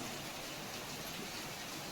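Heavy rain falls in Sinnar, Nashik, as a dense, steady hiss that stays even and loud throughout, with no distinct drops or breaks.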